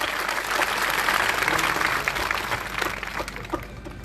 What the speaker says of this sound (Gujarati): એકવાર મારી દાતા ઠાકોર સેનાને એકવાર જોરથી તાળીઓથી અપાવો.